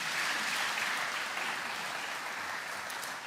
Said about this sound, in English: You got to give a little applause here.